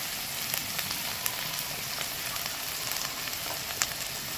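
Cumin and chili powder masala frying in a pan for a minty chicken curry, a steady close sizzle with scattered crackling pops throughout and no talk.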